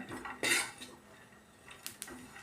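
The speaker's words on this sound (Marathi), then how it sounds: "आता हे पण आपण यासोबत भाजून घेऊया कलर चेंज झाला आहे खोबऱ्याचा" Grated dried coconut dry-roasting in a pan with peanuts, heard as sharp clinks and scrapes of a spoon against the pan, one loud burst early then lighter taps, fairly close with no talking.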